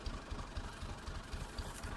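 A tractor engine idles nearby during a wheat harvest, a steady low rumble with regular thudding pulses roughly three times per second, with no voices present.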